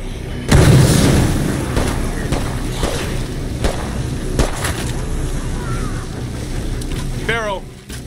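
A grenade detonates in State of Decay 2 with a sudden loud, deep boom that rumbles on as the game's sound continues, and a voice calls out afterward.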